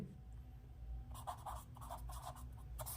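Pen or chalk writing out a trigonometry solution for a right triangle, with short scratchy strokes that start after a quiet second and continue in bursts, close and moderately loud over a low steady hum.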